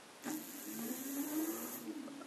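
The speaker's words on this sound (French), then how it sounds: "Et on voit que le moteur tourne en donnant des impulsions" An e-bike hub motor whirs briefly as pulses are given, a faint steady electric hum with a rising whine, starting abruptly and running for about two seconds.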